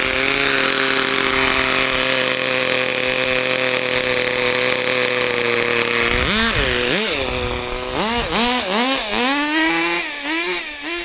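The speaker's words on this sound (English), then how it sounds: "Actually quite a nifty little engine." The small nitro engine of a vintage Kyosho Sandmaster 1/10 2WD RC buggy screams at a high steady idle, then blips through several sharp revs up and down, loud and close.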